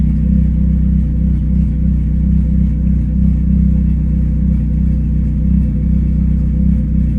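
An RD/RD2 car engine running E85 fuel on a stock ECU idles steadily and loudly up close, a smooth continuous low rumble with slight rhythmic pulsing and no voices.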